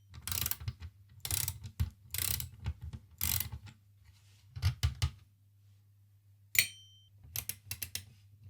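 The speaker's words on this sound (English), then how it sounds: "remove the remainder of the screws holding your motherboard into the bottom of the case" Screws are unscrewed from a yellowed, dirty Super Nintendo case holding the motherboard, giving close, quiet ratcheting clicks in several short bursts with pauses, followed by a sharper tap and a few more scrapes.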